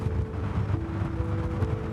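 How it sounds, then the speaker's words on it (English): Ventilation blows air out of a tube during dust clearing at Central Station, a steady close roar of rushing air with a low mechanical hum. "You'll feel a gust of wind, that's the ventilation."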